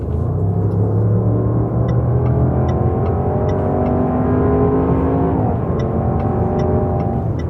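A Range Rover Sport engine accelerates hard in sport mode, a loud, close cabin roar that climbs steadily in pitch, drops briefly at a gear change and then rises again, with no talking.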